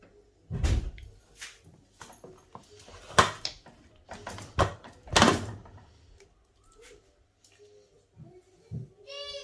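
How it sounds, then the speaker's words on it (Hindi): Metallic clanks, thuds and scraping knocks come in irregular bursts as a pressure cooker of soya chunks is opened, its heavy lid worked loose and lifted. "अभी मैं खोलने लगी हूँ प्रेशर कुकर।"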